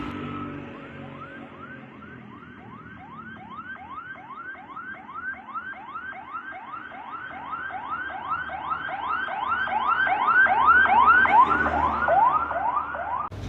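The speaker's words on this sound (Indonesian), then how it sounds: "tiba-tiba ada ambulan yang lagi lewat, mungkin sedang bawa pasien ya" A wailing emergency siren sweeps up and down in rapid repeated cycles as an ambulance passes on a street, growing louder and closer toward the end, with traffic rumble beneath and no talk.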